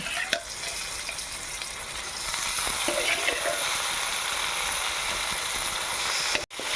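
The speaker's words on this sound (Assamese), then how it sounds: "এতিয়া অকণমান সময় লৰাই ভাজি ল'লোঁ।" Broiler chicken meat being stir-fried in a wok makes a loud, steady frying sizzle with occasional scraping stir sounds, running alone for nearly seven seconds with a brief drop near the end.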